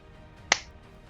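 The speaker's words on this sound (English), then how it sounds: "Slow clap." A single sharp hand clap from the stairs, the start of a slow clap, rings out once, close and distinct, in an otherwise quiet room.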